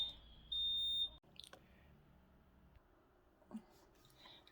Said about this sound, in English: I had this fire alarm that was going off all day long for no reason